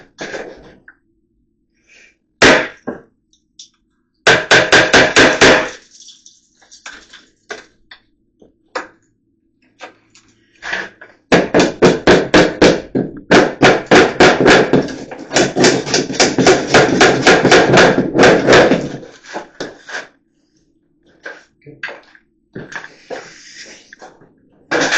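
A hammer strikes a nail punch in sharp, rapid bursts of metallic blows, loud and close, with pauses and scattered single knocks between the runs.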